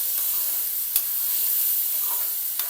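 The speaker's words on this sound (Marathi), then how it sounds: "तेलामध्ये डाळीला छान परतवायचं बघा" Washed masoor lentils sautéed in oil with green chili paste, a steady bright sizzle with a couple of short stirring scrapes, close and fairly loud, no voices.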